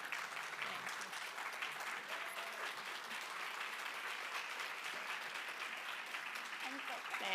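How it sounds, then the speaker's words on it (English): Warm, sustained applause from an audience at a community historical society's annual meeting, steady and dense clapping throughout, honoring the board president. "giving this amazing woman a warm and heartfelt round of applause for our extraordinary board president"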